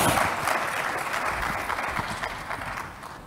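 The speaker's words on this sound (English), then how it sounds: "Can we please give our speakers a round of applause, please?" Audience applause for speakers at a conference session on national food systems, a steady dense wash of many hands clapping close by, tapering slightly toward the end with no talk over it.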